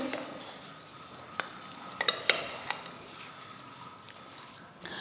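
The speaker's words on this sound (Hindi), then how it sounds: "तो चलें अब इसको मिक्स करते हैं।" Fruit chaat dressed with lemon, tamarind chutney and chaat masala is mixed in a bowl: a few sharp spoon clinks and taps against the bowl, clustered mid-way, over a quiet background with no talking.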